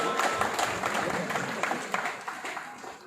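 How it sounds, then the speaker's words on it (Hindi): Audience applause at a district Independence Day ceremony honoring officials, a moderate crowd clapping with scattered sharper hand claps, fading slightly toward the end. "आपका सम्मान जोरदार तालियों के साथ।"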